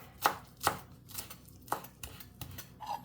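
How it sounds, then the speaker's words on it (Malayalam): Coriander leaves chopped finely with a knife on a cutting board for a paneer cheese sandwich, a run of sharp, close knife thuds at an uneven pace, quiet, with no talking. "പിന്നെ ഒരു കുറച്ച് മല്ലിയിൽ എടുത്തിട്ടുണ്ട് ഒരു രണ്ട് ടേബിൾ സ്പൂൺ ഒരളവിലൊക്കെ മതി ഇത് നല്ല കുഞ്ഞായിട്ട് മുറിച്ചെടുക്കാം"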